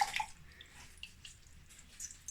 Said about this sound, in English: squeeze the water out and drain them out a bit